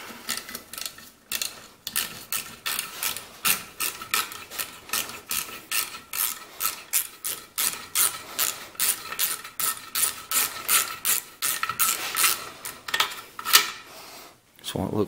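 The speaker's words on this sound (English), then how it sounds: "Take the two bolts out." Ratchet wrench clicking steadily as bolts are backed out of a Briggs & Stratton engine with an auto choke, a long run of rapid, close metallic ticks with brief pauses and some faint voice in between.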